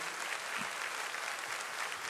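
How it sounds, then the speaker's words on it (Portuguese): Audience applause from a live crowd at a talk show, a steady, fairly faint patter of clapping hands lasting about two seconds with no voices over it. "Passa uma de palmas para o Fala Deus"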